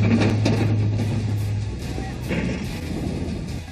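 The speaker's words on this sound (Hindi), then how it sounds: "युद्ध के मैदान में जब ये 130 mm की तोप गोलों की बरसात करती है" A 130 mm artillery gun firing on a battlefield, a deep heavy boom with a long rumbling tail and a second blast, loud and distant-sounding.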